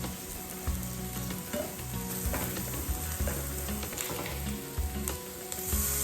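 Spam slices and kimchi sizzle and fry in a pan for Korean gimbap, a steady loud crackle with occasional stirring clatter and no talk.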